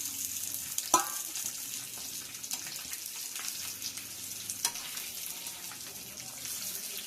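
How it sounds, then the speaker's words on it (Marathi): Potatoes sautéing in ginger-chilli paste in a pan, a low continuous sizzle broken by an early sharp clink and occasional scraping stirs, close and quiet with no voices. "याच्यामध्ये आपण आता बटाटे टाकून घेणार आहोत. बटाटे देखील आपल्याला छान याच्यावर अशी परतून घ्यायचे."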